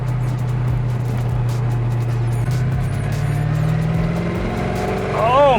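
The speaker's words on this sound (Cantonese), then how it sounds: "就肯定係個引擎聲浪，嗰個雄厚嘅聲浪係真係冇得比" A 1972 Maserati Indy's V8 engine drones deep and steady while driving, its pitch slowly climbing as revs build, with a brief rising sweep near the end.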